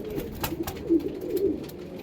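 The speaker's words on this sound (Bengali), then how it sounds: "দেখতে পাচ্ছেন পায়রা" Two Pathan (pathiya) pigeons, a male and a female, cooing softly in low murmuring phrases that rise and fall close by, with faint background noise and no clear talk.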